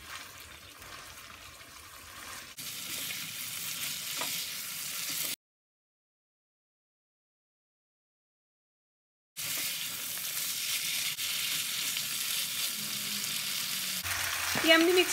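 Tawa chicken with coriander stirred on a hot pan, a steady frying sizzle with scraping stirring strokes, broken by a stretch of complete silence midway, then the sizzling resumes and ends with a louder clatter.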